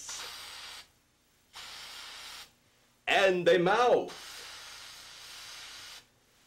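Black spray paint hisses from an aerosol can onto a styrofoam wig head in two steady bursts of about a second each, with a third later, while someone speaks briefly in between.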